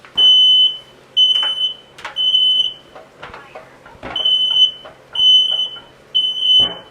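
A kitchen smoke alarm goes off during cooking of pan-seared sea bass, loud shrill beeps in regular bursts with clatter and brief noises between them.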